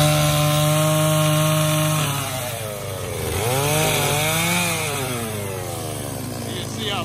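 A chainsaw runs while firewood is cut, first at a steady high idle, then revving up and down in uneven surges, with someone talking over it.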